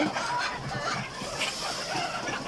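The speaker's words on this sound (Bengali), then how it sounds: "এই যে আমাদের ডিমের মুরগিগুলো এখানে তিন ব্যাচের মুরগি আছে" A dense flock of Egyptian Fayoumi laying hens clucking continuously, many overlapping calls filling the space at close range with a busy, steady chatter.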